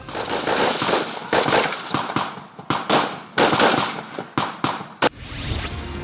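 Loud bursts of rapid gunfire, automatic volleys and single sharp cracks, come close and echoing with brief pauses between them.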